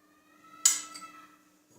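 A single bright clink of a spoon or metal utensil against a dish while spice powders are mixed for nihari masala, sharp and close, ringing briefly before fading in an otherwise quiet kitchen.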